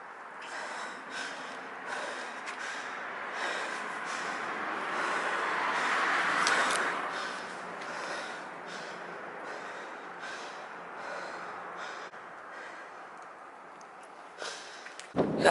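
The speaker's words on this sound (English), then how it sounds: "in this whole part right here of me just breathing" Heavy, shaky breathing from someone in shock after a robbery attempt comes through as repeated close snorting breaths and gasps over faint traffic noise, ending in a sudden loud knock.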